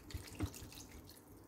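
A tap runs water briefly into a container to soak orange peels, a short close splash with a couple of drip-like plops and no talk.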